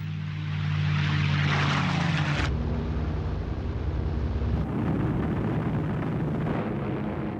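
World War II propeller aircraft, US bombers escorted by Mustang fighters on 1945 raids over Japan, drone loudly and continuously, a dense roaring engine rumble that swells and shifts in tone, with no talking.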